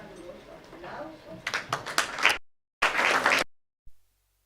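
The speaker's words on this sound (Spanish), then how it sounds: "recibamos con un caluroso aplauso" Audience applause welcoming a speaker to a literary talk at the Teatro Centro de Arte. It comes in two short, loud bursts of clapping after some talk, broken by abrupt silence.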